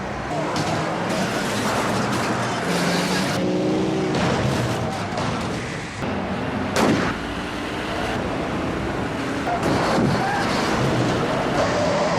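Cars roar and rumble at speed on a rally racing track in the James Bond film On Her Majesty's Secret Service, a dense continuous mix of engines with sharp impacts and crashes scattered throughout.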